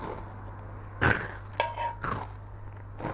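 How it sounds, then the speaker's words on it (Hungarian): Someone bites into crunchy fried bread (bundáskenyér) close up, with three or four sharp crunching bites spread over a few seconds against a quiet background. "Még ilyet, hadd hallgassuk, hogy mennyire ropog."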